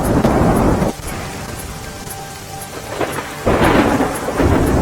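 Heavy downpour in Nadiad, Gujarat, a loud steady roar of rain with rumbling thunder rolling through, swelling in two strong surges around the start and near the end.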